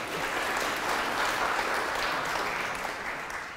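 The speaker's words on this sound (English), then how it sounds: "those of you who are clapping" Sustained applause from a studio audience at a televised head-to-head debate on boycotting Israel, steady and dense clapping throughout with no break.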